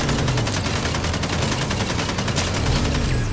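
Rapid bursts of video game gunfire crackle continuously through a frantic match, dense and loud from start to finish with a low rumbling bed underneath.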